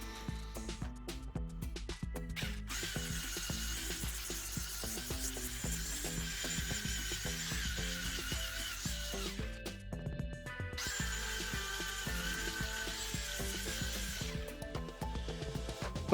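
A small handheld sander with hook-and-loop discs works over plastic wall cladding, giving a steady, close whirring drone with a rough scratchy edge. It runs continuously, briefly eases near the middle, then resumes.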